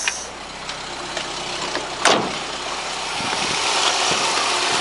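A Volkswagen Golf Country engine idling smoothly and quietly, with a low steady hum and a brief louder swish partway through.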